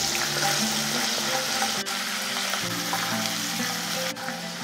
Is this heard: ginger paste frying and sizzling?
yes